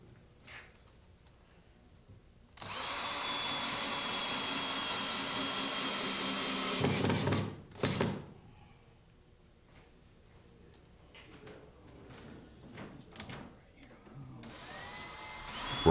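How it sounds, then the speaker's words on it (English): A power drill drives screws through log siding, a loud continuous whir lasting several seconds, stopping, then a short second burst, with scattered clicks around it and another whir starting at the end. "Screw fasten the siding into place."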